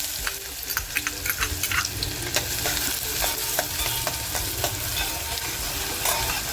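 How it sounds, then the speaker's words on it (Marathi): Finely chopped onion frying in well-heated oil in a pot, a steady loud sizzle and crackle with scattered sharp pops and scraping stirs throughout, no talking. "तेल छान तापलंय कांदा टाकते"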